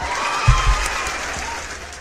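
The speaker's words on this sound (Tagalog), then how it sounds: "Palakpak." Applause in a livestream setting, a steady wash of clapping with a couple of louder low thumps near the start, moderately close and continuous for about two seconds.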